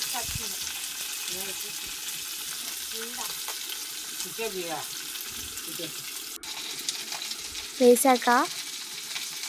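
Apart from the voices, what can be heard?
green chillies and ginger frying in oil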